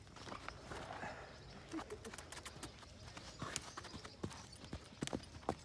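Horse hooves clip-clop steadily on a ride, close and fairly quiet, in an uneven walking rhythm with scattered knocks and soft rustling; a voice can be heard faintly in the background.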